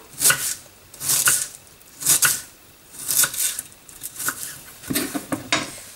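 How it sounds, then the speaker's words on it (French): A knife mincing an onion on a cutting board for a chicken tajine with dried fruit, six sharp clustered bursts of chopping knocks at a steady, roughly one-second rhythm, close and clear with no talk. "Donc vous allez émincer votre oignon."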